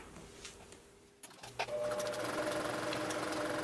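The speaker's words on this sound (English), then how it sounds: "I'm sewing on a Baby Lock Accomplish." A Baby Lock Accomplish straight-stitch sewing machine, used for bag making, starts up after a quiet moment and a few clicks, then runs in a loud steady hum.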